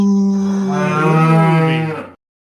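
A cow moo played from a podcast soundboard, one long loud bellowing call with a rising and falling pitch lasting about two seconds, then silence.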